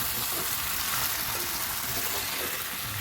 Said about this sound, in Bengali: এখানে মশলার মধ্যে মা চিকেনটা দিয়ে দিল, আর আমি খুন্তি দিয়ে সেটা নাড়াচাড়া করে দিলাম।